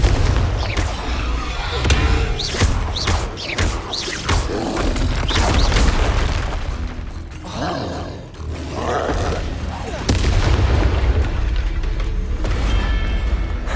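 The Confringo explosive spell in the Hogwarts Legacy video game goes off amid a dense, loud battle soundscape of booms, roaring blasts and whooshing effects that layer continuously without letup.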